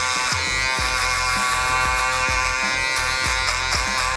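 An electric shaver buzzes steadily against a scalp while a barber balds out the back beneath a mid taper on curly hair, with a constant close hum broken by brief strokes and light clicks.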